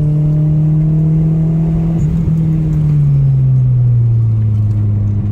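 Peugeot 406 engine on a track, loud and close with a steady drone that climbs and then shifts pitch as the car gathers speed, with no voices.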